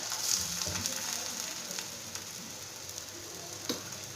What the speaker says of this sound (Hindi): तो डाल दूँगी पहले थोड़ा सा बटर। आप चाहें तो ज़्यादा भी डाल सकते हैं, और ऐसे मैं पनीर के पराठा को डाल दी हूँ।